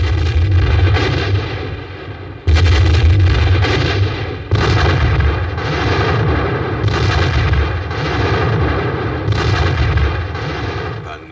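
Heavy artillery fires in repeated booming salvos, several deep blasts in quick succession with rumbling echoes between them.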